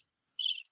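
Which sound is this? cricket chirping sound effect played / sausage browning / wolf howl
cricket chirping sound effect played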